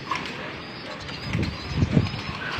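A racing pigeon arrives home from a derby race, with soft low cooing and a few rustles near the coop, moderately close over quiet background.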